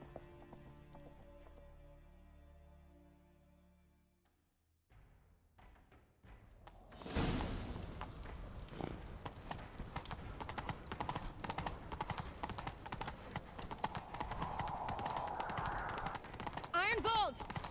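After a quiet musical opening, a rush of hoofbeats breaks in and keeps thundering along, horses galloping hard in The Witcher 3 video game, with a faint rumble beneath.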